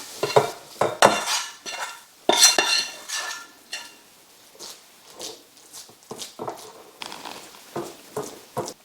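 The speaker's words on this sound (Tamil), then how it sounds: "இந்த மாதிரி எல்லாம் ஒன்றா சேர்ந்து வந்த உடனே நம்ம நெய் தடவி வச்சுருக்க பாத்திரத்துக்கு மாற்றிக்கலாம்." Sugar-free coconut burfi mixture scraped and spooned out of a pan into a ghee-greased vessel, with repeated close metallic scrapes, clanks of a spoon against metal and soft thuds in an irregular rhythm.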